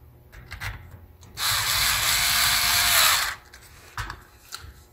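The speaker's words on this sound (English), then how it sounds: "So I'm going to put these 4 screws back in." A small electric screwdriver drives screws back into the case of a Lenovo IdeaPad 100-15IBY laptop, one steady whirring run of about two seconds, close up, framed by light clicks and handling taps.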